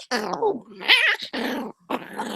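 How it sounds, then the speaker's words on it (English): Excited dogs growl and whimper close by in short bursts, broken by high whiny yips, with brief pauses between the outbursts. "sorry, crazy dogs"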